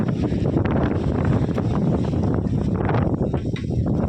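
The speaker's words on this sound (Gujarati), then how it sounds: "પવનની ગતિ હોય વાવાઝોડા જેવો હે પવન." Steady, loud wind roars and buffets the microphone without a break, a rough broadband rush filling the whole stretch, at Girnar near Junagadh, Gujarat.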